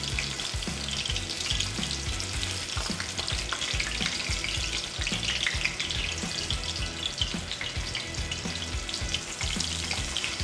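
Martabak fries in a pan of hot oil with a steady, dense sizzle and crackle, close and continuous throughout, with occasional small pops.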